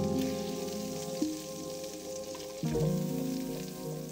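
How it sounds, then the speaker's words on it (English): Steak pan deglazed with sweet port wine, a steady sizzle and bubbling from the hot pan running throughout, with a brief burst of louder spitting partway through, close and unvoiced. "After cooking some steak in a pan, deglaze it with some sweet port wine"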